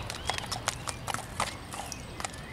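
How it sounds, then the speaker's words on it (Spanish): A bay horse's hooves clip-clop in a steady, even rhythm of close, crisp strikes, alone with no voices over them. "el caballo va al trote y va más alerta"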